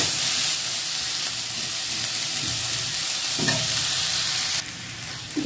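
Onion, capsicum and cabbage fry in a pan with a loud, continuous sizzle, broken by scraping stirs and a brief hiss near the end; no one speaks.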